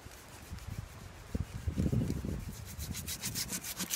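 A wooden pole is sawn through outdoors, with quiet rhythmic rasping strokes that grow denser and louder toward the end.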